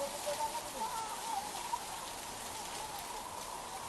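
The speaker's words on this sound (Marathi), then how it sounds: "पुण्यामध्ये देखील जोरदार पाऊस मध्यरात्रीपासून होतोय" Heavy rain pouring down in Pune, a steady broadband hiss of downpour with no clear gaps, moderately loud and continuous throughout.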